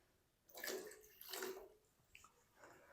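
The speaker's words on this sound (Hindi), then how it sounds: "आलू पानी समेत हम इसके अंदर शामिल कर देंगे। थोड़ा सा ना पानी इसके अंदर हम और शामिल कर देंगे।" Water poured from a vessel into a pan holding potatoes, two close splashing pours followed by a few lighter trickles and drips.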